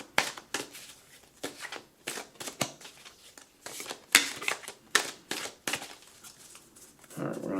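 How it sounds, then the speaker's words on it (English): Oracle of the Unicorns oracle cards being shuffled by hand in irregular bursts of crisp riffling and slapping, close and fairly quiet, with pauses between bursts. "We're going to shuffle and we're going to throw."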